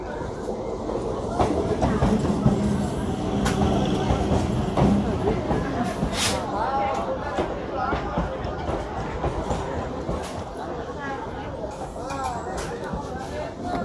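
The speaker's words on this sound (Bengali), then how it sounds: "তো এখন আমাদের নামখানা লোকাল এসে গেছে।" A Namkhana local train pulls into Lakshmikantapur station in West Bengal with a loud rolling rumble and rhythmic wheel clatter, joined by crowd chatter and a voice talking over the platform noise.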